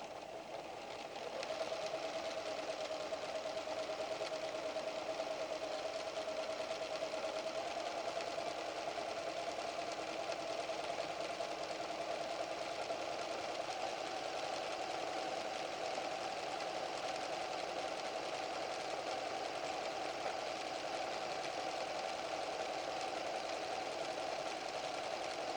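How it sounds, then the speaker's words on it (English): A PFAFF creative 7550 sewing machine runs continuously at an even pace for a long stretch, a steady mechanical hum with a faint whine, quiet and close, with no voices. "And now you're ready to sew."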